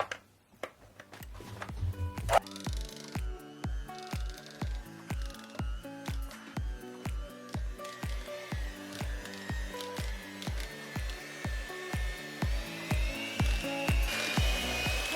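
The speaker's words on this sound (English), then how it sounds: "we are going to start with our hand mixer on low, just to get all of these softened ingredients combined" Hand mixer running on low through softened cheesecake ingredients, a rhythmic thumping churn with regular beats under a steady motor whine that grows slightly louder, close and alone without talk.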